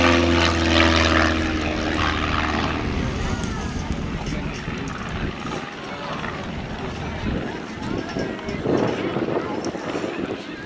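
A Cassutt Special racing plane makes a waving pass at the Midlands Air Festival, its propeller engine droning loudly and steadily overhead. Throughout, it roars beneath a commentator's voice and crowd noise.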